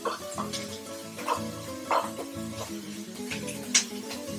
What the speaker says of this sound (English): I'm gonna cook the bacon to the point where it starts to pop a little